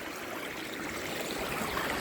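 Water running in a stream beside a small old concrete bridge in Vaynor woodland near Merthyr Tydfil, a steady close rushing and trickling hiss that goes on without a break and with no voices.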